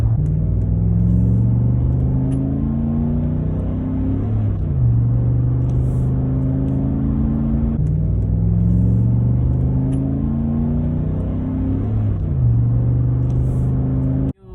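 Inside a Chevy Silverado with a catback exhaust and cold air intake, the engine drones steadily while driving, rising through gears with smooth shifts and a deep, constant rumble.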